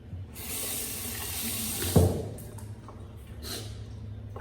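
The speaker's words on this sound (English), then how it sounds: "I'm gonna throw my Erasmic bloom water into my scuttle" Erasmic bloom water poured from a tap into a Phoenix travel shaving scuttle, a steady close splashing fill for about two seconds that tails off into a few lighter trickles and drips.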